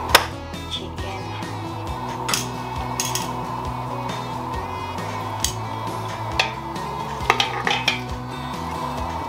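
Roast chicken being flipped in an air fryer basket: close metallic clinks, scrapes and clatters of utensils against the basket, with a steady hum underneath and no talking.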